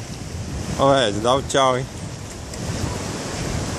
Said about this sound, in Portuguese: Arrebentação aqui na beira da pedra.